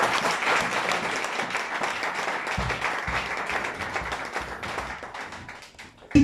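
A church congregation applauds in a steady, dense wash of clapping that carries on evenly before briefly thinning near the end.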